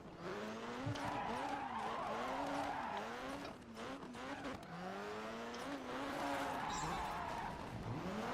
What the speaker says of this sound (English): That's a drift.